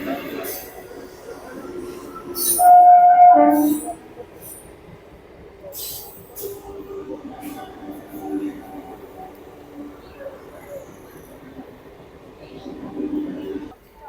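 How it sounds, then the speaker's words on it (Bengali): A train runs along the railway beside a goods yard in flood-affected Panskura, West Bengal: a low, steady rolling rumble with a brief metallic wheel squeal early on, heard at moderate distance under intermittent talk. "ট্রেন আসছে দেখুন ট্রেন কিন্তু চলছে"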